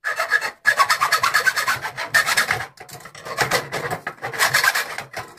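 Hand sawing of plastic electrical cable trunking, a rapid rasping stroke-by-stroke rhythm in several bursts separated by short pauses, loud and close, no talking.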